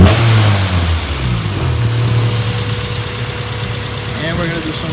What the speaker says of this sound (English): we're going to do some VTEC pulls to see how the interior sounds like with the VTEC pull on it